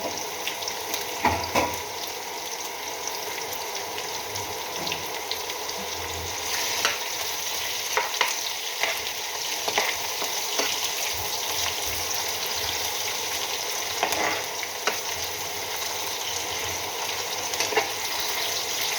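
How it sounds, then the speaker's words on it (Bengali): Garlic crackles and sizzles in oil at a moderate level, broken by occasional scrapes and clinks of a spoon against the pan. "একটু রসুনটা ভাজা ভাজা হয়ে যায়"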